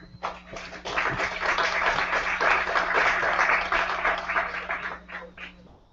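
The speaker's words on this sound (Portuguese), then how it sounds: "Palmas para as duas debatedoras." An audience at a political debate applauds two debaters, a steady, full burst of many hands clapping that swells after a moment and fades out near the end, with a low hum underneath.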